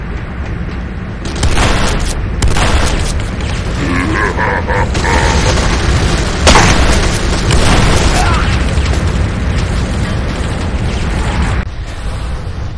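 Booming explosions and mechanical clanks as Nod attacks a GDI power plant in Renegade C&C, loud and continuous, with a synthetic announcer voice heard over the battle.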